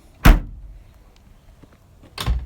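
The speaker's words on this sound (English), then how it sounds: "Oh, look, the door closes all by itself." A 1993 Alfa Romeo Spider Series 4 car door shuts, giving two sharp, close thunks about two seconds apart with quiet in between.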